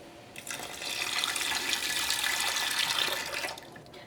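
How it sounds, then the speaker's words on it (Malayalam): Water runs steadily into a cooking pot for lentils being prepared for rava pongal, a continuous close splashing pour that swells after a moment, holds level, then tapers off near the end with no talk. "അപ്പോൾ ഇതിലേക്ക് നമുക്ക് 3 കപ്പ് വെള്ളം ചേർക്കാം."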